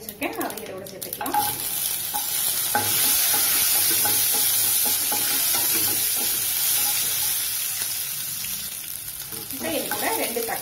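Chopped small onions sizzling loudly in a hot pan for mango sambar, a dense continuous frying hiss with occasional stirring scrapes, close up and without speech.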